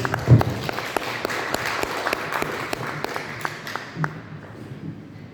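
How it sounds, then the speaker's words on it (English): Applause from a small audience after a poet is introduced at a poetry society reading, scattered distinct claps over a softer clapping bed, thinning out and fading toward the end. "Big round of applause"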